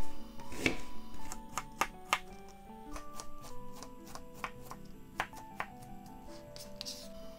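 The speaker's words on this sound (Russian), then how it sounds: "Я беру примерно 70-80 грамм лука. Режу мелким кубиком." A knife chopping onion into small cubes on a cutting board while preparing nettle soup with egg and sorrel, irregular sharp taps close up, alone without talk.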